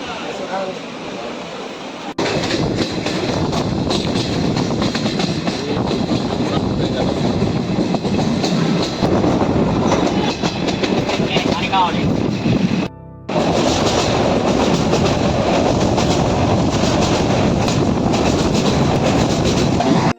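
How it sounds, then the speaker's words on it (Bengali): Kolkata–Haldibari Express rolling along the rails, a loud continuous rumble with rhythmic clickety-clack and wind buffeting heard from a window seat, briefly cutting out once before resuming. "ট্রেন ছেড়ে দিল।"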